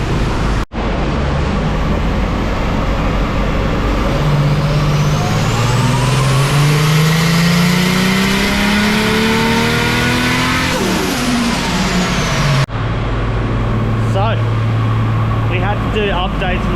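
A car engine with a wastegate revs on a dyno, climbing in a long, loud pull from low rpm to a high peak before dropping back to idle, then revving briefly again, very close.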